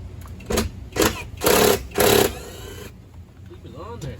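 An impact wrench zips off the lower dash bolts in a stripped S10/Sonoma cab, firing four short, loud rattling bursts in quick succession before falling into quieter shop background.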